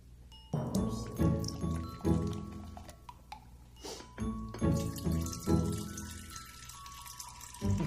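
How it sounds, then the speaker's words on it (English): Pepsi, 12 ounces, poured into a small jar, liquid splashing and fizzing as it foams up; a steady close pour with bursts of bubbling, no talk. "Next thing we're going to add is 12 ounces of Pepsi."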